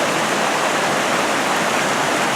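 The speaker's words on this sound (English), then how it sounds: "But this is the top of the main falls right here." Waterfall at the top of the main falls on the Potato River, a steady, loud broadband rush of falling water filling the whole stretch without pause and without voices.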